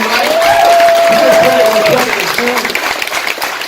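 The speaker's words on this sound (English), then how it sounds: "We want to give Dave a round of applause here because he has worked so hard on this bike." Crowd applauds motorcycle builder Dave at a veteran bike giveaway, loud clapping and some cheering close by, with a whistle-like tone and people talking over it.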